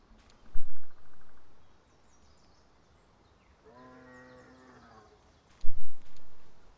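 A person imitates a cow mooing during a Palworld game session, giving one long wavering low moo in the middle, framed by short louder thumps and noises before and after, with no talk.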